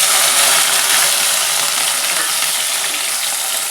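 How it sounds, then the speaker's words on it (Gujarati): Chilies and fenugreek seeds sautéing in a pan for a Gujarati sambharo, a loud dense hiss of oil crackling steadily throughout with no clear stirring strikes and no voices. "મરચાંને પણ આ રીતે હલાવતા રહીએ અને સાતળી લઈએ"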